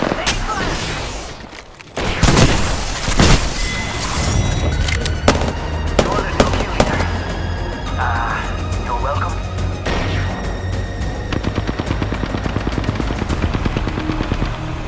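Rapid bursts of automatic gunfire in the Apex Legends video game, loud and dense. Sharp repeated shots and booms run almost constantly after a short quieter lead-in, with occasional faint game voice lines mixed in.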